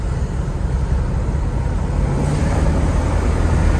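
A 1978 Chevrolet Corvette is driven on a sunny day with the T-tops on, a low, rumbling engine and road noise that swell slightly as a little gas is given, steady and without talk.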